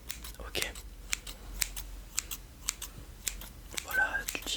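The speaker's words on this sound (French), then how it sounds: "un outil super utilisé dans la SMR, les ciseaux" Scissors snip in crisp, regular close-up cuts, about two each second, quiet and intimate in an ASMR hairdresser roleplay, with soft whispering underneath.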